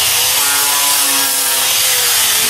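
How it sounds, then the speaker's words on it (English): Small grinder fitted with a 50 grit sanding wheel working a heavily rusted metal piece in a shop, giving a continuous loud abrasive grinding hiss with a steady motor whine throughout. "Here I'm using a small grinder with a 50 grit sanding wheel on it."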